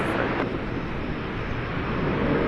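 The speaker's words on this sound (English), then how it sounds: "American Flight 1304 to Los Cabos in Mexico is now off and running. It's an Airbus A321." American Flight 1304, an Airbus A321 bound for Los Cabos, rolling for takeoff at Dallas Fort Worth airport, a loud continuous jet engine roar filling the whole stretch without letup.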